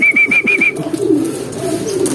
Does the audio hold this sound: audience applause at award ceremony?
no